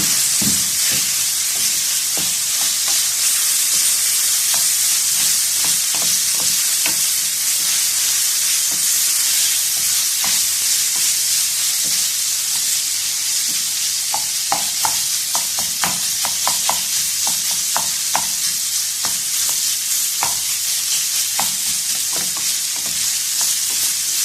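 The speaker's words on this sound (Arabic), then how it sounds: "غنحركو جميع العناصر كنضيفو الكفته في جميع العناصر" Kefta being stirred into a vegetable pie filling in a hot pan, giving a steady sizzle and hiss with scattered scraping clicks from the utensil, close and constant, no voices.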